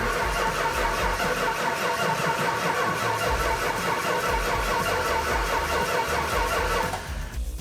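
A 1970 Hemi Challenger engine cranks continuously with a fast, rhythmic starter chug, close and loud, failing to catch before the cranking stops.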